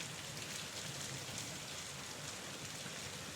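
Steady rainfall on surfaces, a dense, even hiss of drops at constant loudness with no other sounds.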